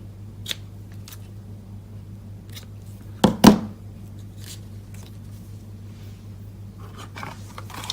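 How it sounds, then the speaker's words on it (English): Ribbon scissors snip the ends off a ribbon while an autumn card is being made, two quick close cuts in a row against a quiet room, with a few faint taps before and after. "cutting my ends off with my ribbon scissors"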